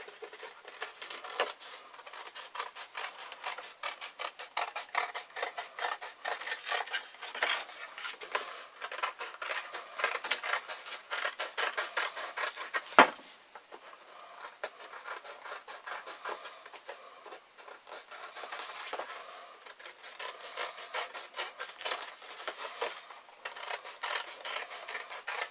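Scissors or a blade cutting out an 8-inch circle of material for a cone pheasant trap, making a steady, close rasping and snipping sound throughout with a single sharp knock midway.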